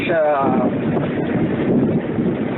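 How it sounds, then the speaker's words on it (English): Wind gusts across an open hurricane levee topped with limestone during cleanup in Braithwaite after Hurricane Isaac, 2012, a steady close rumble buffeting the microphone throughout, with a voice briefly audible at the start. "the wind's kind of blowing off to the side"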